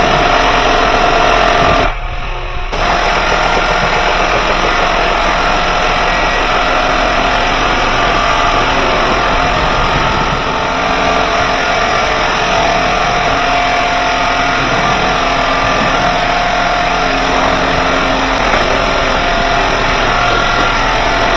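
An EGO 530 leaf blower runs continuously at full power while drying a car, a loud, steady high-pitched whine and rushing air with one brief dip near the start.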